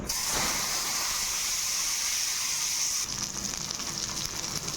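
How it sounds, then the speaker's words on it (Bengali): Tomatoes dropped into hot oil with panch phoron burst into a loud, dense hissing sizzle that holds steady, then eases slightly and crackles on. "টমেটোটাকে ভালো করে ভেজে নেব"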